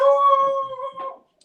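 A puppy lets out a single short, tonal howl close by, holding a steady pitch for about a second before fading out.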